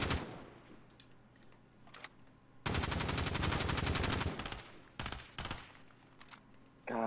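Automatic gunfire in Call of Duty Warzone, loud bursts with a long sustained volley in the middle and shorter bursts after, over a quieter game background.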